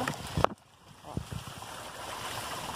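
Water flowing out of a small backyard pond with a little bridge over it. A soft, steady trickle runs under a person talking, with a few brief knocks.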